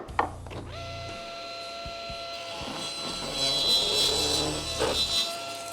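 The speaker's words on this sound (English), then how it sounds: "The only thing left to do is to do a test cut on my newly calibrated saw" A table saw running steadily with a constant whine while a test cut is fed past a featherboard, the blade note rising louder through the middle of the cut and then easing back.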